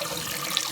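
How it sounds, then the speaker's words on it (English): Cold water runs steadily from a tap into a pot of boiled eggs, a continuous close splashing hiss with no pauses. "And then pour in some cold water."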